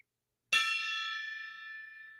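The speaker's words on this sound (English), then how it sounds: "It sounded like a little gong." A small gong is struck once after a brief silence, giving a bright metallic clang that rings on with a long shimmering decay.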